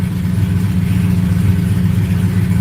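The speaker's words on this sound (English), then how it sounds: "Then I'll give it a few revs." A car engine runs loud and close, a steady low rumble with no pauses throughout.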